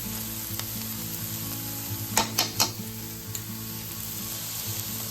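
Cubed butternut squash and minced garlic sizzle in a pan, a steady broad frying hiss with a few sharp scraping knocks of a utensil as the pieces are stirred.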